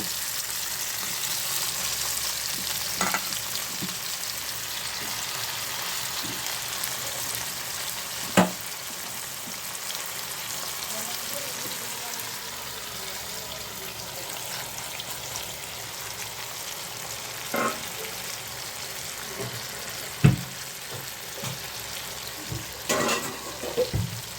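A puti fish mixture frying in a pan, a steady, soft sizzle and crackle that continues throughout, with occasional sharp clicks and taps of a utensil against the pan.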